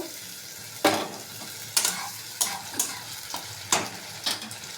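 Onions going into hot oil with potatoes in a wok: sharp sizzling bursts at irregular intervals, each flaring loudly then settling into a steady frying hiss, with stirring in between and no talk.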